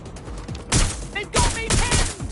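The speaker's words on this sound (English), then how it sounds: "better put up a fight! Taking fire!" Gunfire in the video game Watch Dogs Legion: several loud, close bursts of shots in quick clusters, with muffled game speech mixed in between the volleys.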